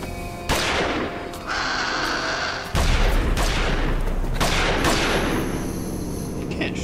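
Loud booming gunshots from Jurassic Park The Game ring out in a few heavy blasts, each one trailing off into a lingering echo, with little talking.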